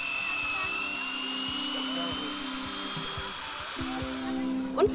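An electric drill driven by a pedal-powered energy bicycle gives off a quiet, thin motor whine with a low hum beneath it, rising and dipping as the pedalling changes.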